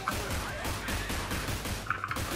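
Rapid gunfire through an open grate in Outbreak, a steady dense stream of close, punchy shots in quick rhythm lasting a couple of seconds, with a few sharper metallic pings near the end.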